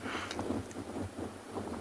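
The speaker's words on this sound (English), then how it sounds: "So it's not very surprising that there's a bit of a wind blowing." Gusty wind buffets the microphone in a low, rumbling rush, fairly quiet and uneven.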